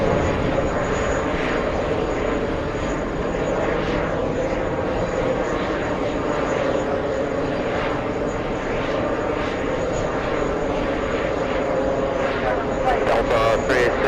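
A JetBlue jet airliner flies at JFK airport, a loud continuous engine roar that stays steady throughout with talk running over it.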